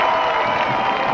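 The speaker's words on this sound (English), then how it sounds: "They're yelling to the crowd, and the crowd's yelling back again." A crowd at a 1998 high school state quarterfinal football game yells and cheers back toward the players, a dense, steady wash of distant voices filling a large outdoor stadium.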